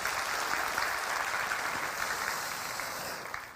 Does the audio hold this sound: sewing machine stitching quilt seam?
no